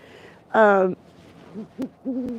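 A pet owl on a leash outdoors hoots: one loud, clear, quavering call, then several softer, low, short hoots in an uneven sequence, close by and with no talking.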